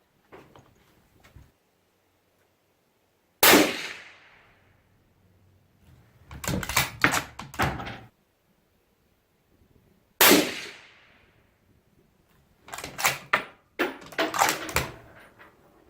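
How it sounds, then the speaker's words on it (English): Suppressed 6.5 Creedmoor rifle fired with a Dead Air Sandman suppressor: two loud, sharp cracks spaced several seconds apart, each followed by a quick clatter of metallic handling noises, with quiet gaps between. "we're going to do 3 shots with the can back on"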